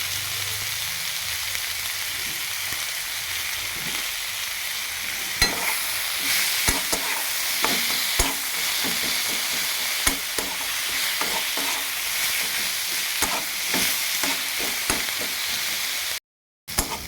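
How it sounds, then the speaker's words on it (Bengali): Onions with salt and turmeric fry in a wok, a continuous bright sizzle broken by scattered sharp scrapes and clicks of stirring, fairly close and alone, with a brief dropout near the end. "তো এখন পেঁয়াজটা দিয়ে একটু লবণ হলুদ দিয়ে পেঁয়াজটাকে আমি সুন্দর করে ভেজে নেব।"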